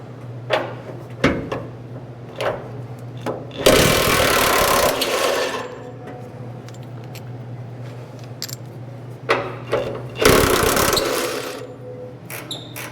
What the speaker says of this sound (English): Taking this bolt out.